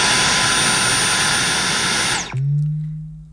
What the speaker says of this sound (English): So to turn the cleaner on, you simply press this button once.